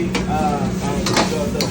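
Fried rice tossed in an extremely hot wok gives a close sizzle with scraping stir strokes and a few sharp metallic hits over a short burst, a voice talking over it.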